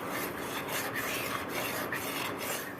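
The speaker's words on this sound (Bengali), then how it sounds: "এই যে অনবরত এভাবে নাড়তে হবে, তা নাহলে নিচে লেগে যাবে।" A spoon scrapes continuously around a pan of kalakand sondesh mixture with sugar and cardamom, making a soft, rhythmic rasping as it is stirred, close and fairly quiet with no talking.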